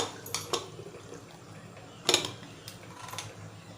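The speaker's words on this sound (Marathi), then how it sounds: "आता आपण कुकरचं झाकण लावून घेऊया" Metal lid fitted onto a pressure cooker of mutton curry, a few light clanks and scrapes, one sharper clatter near the middle, close and fairly quiet with no talking.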